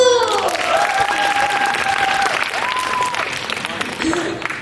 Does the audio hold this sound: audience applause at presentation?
yes